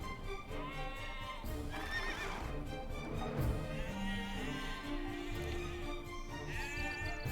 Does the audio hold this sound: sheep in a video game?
yes